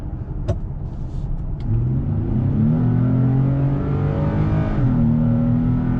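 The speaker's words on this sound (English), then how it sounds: "I can definitely hear a lot more intake noise." After a couple of faint clicks, a Chevy Colorado pickup engine with a cold air intake surges into hard acceleration, its intake roar rising in pitch, then briefly dipping at a gear shift before climbing again.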